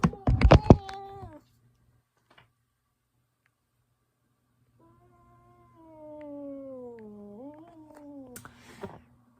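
A pet cat lets out a loud, drawn-out meow at the start, then after a long silence gives a second, longer wavering yowl that rises and falls, close by and with no one talking.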